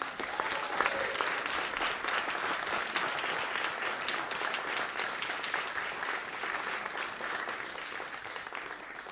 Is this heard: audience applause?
yes